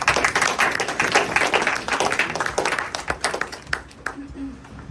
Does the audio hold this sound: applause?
yes